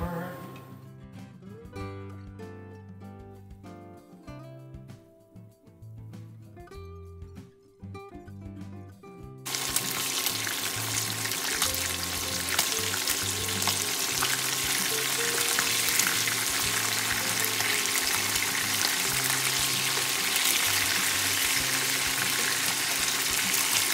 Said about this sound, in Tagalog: So umpisahan po natin sa pagpiprito nitong isda.